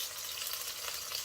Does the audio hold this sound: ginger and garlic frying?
yes